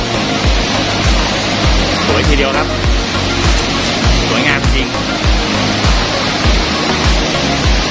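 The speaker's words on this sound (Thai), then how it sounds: "ถ่ายตรง นะจะเห็นความสวยงามของน้ำตก" Heavy water thunders over the tiered falls of Tat Kuang Si near Luang Prabang, Laos, running high in the rainy season. It is a loud, steady roar throughout, with someone talking over it.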